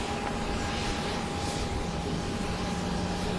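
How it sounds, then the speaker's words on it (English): A Boeing 737-700 jet, flight 953 from Austin, arrives at Dallas Love Field at night, its engines a steady broad roar with a high whine, heard continuously at moderate distance. "This is flight 953 arriving from Austin, Texas, 737-700."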